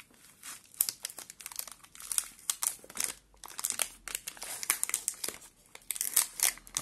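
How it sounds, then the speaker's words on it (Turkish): A Milka hazelnut caramel chocolate package being opened at its resealable edge, close, crisp crinkling and tearing of the plastic wrapper in irregular bursts throughout, with no talking. "Hadi paketi açalım bakalım nasıl bir şeymiş bu."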